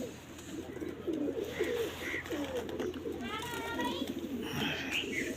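Domestic pigeons kept in a loft coo in low, rolling repeated phrases close by, while people talk intermittently over them.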